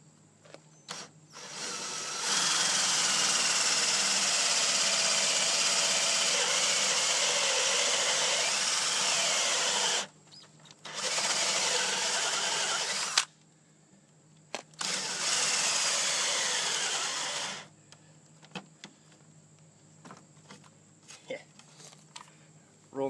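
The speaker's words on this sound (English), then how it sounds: "chuck them in the drill and it goes something like this" A power drill spins a Milescraft bit in bursts: three loud, steady whirring runs of several seconds each, separated by brief stops, followed by quieter clicks and handling noise.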